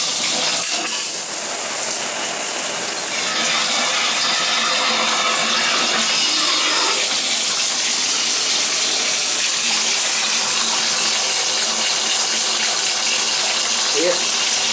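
Water running steadily inside a wall from a leaking Symmons tub and shower valve, a constant loud hiss and spray with a brief tap near the start and voices faintly under it.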